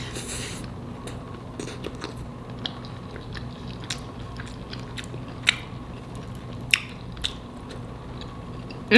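Someone eats a homemade chicken pot pie spaghetti bake, with soft chewing and biting close to the mic and a few small sharp clicks over a steady low background hum.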